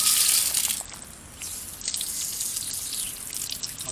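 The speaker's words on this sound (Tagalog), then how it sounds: "Tubig." Water running through a forest setting, a steady broadband rush and splash with no speech, fairly close and continuous, dipping briefly in the middle before resuming.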